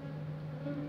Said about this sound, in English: I noticed that we got a lot of bees in here